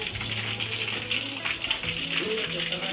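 Chicken deep-frying in hot oil over a wood-fired stove, a dense, steady bubbling sizzle with crackles, continuous and fairly close.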